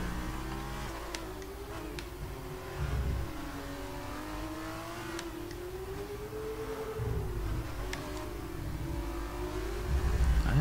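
A Formula 1 car engine in the F1 2019 racing game revs hard and steadily, its pitch rising and falling through gear changes as the car drives, loud and continuous with no talk over it.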